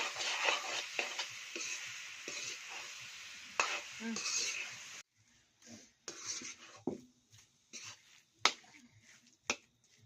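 Sweet amla pickle with jaggery being stirred in a large wok over a wood fire: soft, close sizzling with irregular sharp scrapes and clicks from the spoon, fuller at first, then sparser and quieter with isolated taps.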